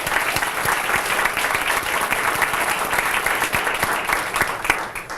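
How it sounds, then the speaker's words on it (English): A crowd applauds at the 35th annual National Night Out neighborhood kickoff, with dense, sustained clapping from many hands that holds steady and fairly loud for several seconds with no speech. "We should have a round of applause"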